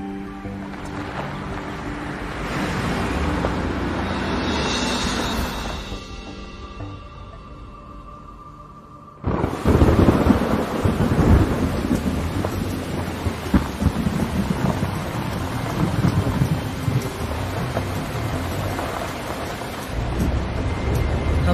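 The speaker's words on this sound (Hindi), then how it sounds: "लगता है ये बारिश जल्दी नहीं रुकने वाली" Steady heavy rain roars, then cuts out briefly before a loud wash of rain and rumbling resumes, dense and continuous with low thunder-like booms.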